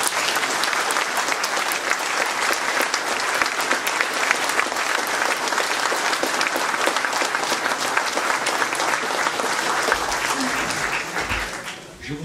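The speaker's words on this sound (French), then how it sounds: "Je voudrais qu'on l'applaudisse une nouvelle fois." A large audience claps steadily and loudly at a public ceremony, the dense applause sustained throughout and tapering slightly right at the end.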